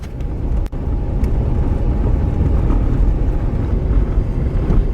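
Strong wind blows outdoors after a snowstorm and wintry mix, a loud, steady roar with gusty buffeting across the microphone, close and continuous, with no talking.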